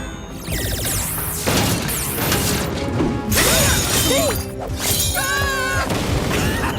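Stage lights come crashing down in an animated spy cartoon, a dense run of loud shattering glass, metallic smashes and thuds layered with whooshing effects and background music, close and continuous.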